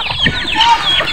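Pet backyard chickens clucking close up in a steady overlapping chatter, several birds calling at once for just over a second, loud and with no talk.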